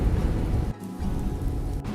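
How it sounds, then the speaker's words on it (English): Rain in the X-Plane 11 flight simulator with a Boeing 737-800 on approach: a steady, dense wash of rainfall with a low rumble beneath, briefly dipping for a moment before resuming. "Can you hear the rain?"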